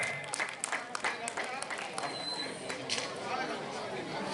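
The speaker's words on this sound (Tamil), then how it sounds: "கைதட்டு." Audience clapping at a mridangam arangetram debut performance, a steady patter of many hands with crowd chatter and an announcer's voice over it, moderately loud throughout.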